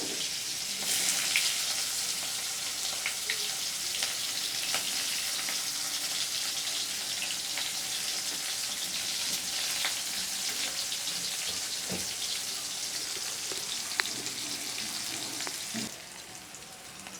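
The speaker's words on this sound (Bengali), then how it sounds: "পেঁয়াজটা যাতে তাড়াতাড়ি ভাজা হয়ে যায় এবং নরম হয়ে যায়" Chopped onions fry in hot oil seasoned with nigella seeds, a loud, continuous crackling sizzle with occasional stirring clinks, steady throughout before easing slightly near the end.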